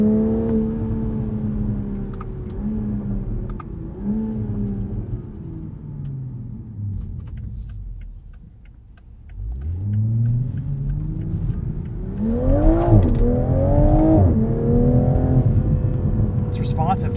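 A 2021 Toyota Supra 3.0 Premium's engine hums and pulls through rising revs from inside the cabin, with a steady drone, a dip, then a harder acceleration surge, under a talking driver.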